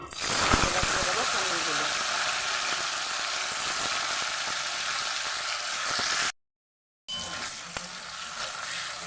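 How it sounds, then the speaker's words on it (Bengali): Loud, constant sizzling of paneer frying in hot oil with occasional stirring clinks, briefly cutting out before the crackle resumes. "আমি পনিরগুলোকে ভেজে তুলে নেব"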